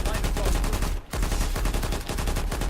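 A Big N light machine gun fires in a video game, a loud, rapid, sustained burst of close shots with one brief pause near the middle.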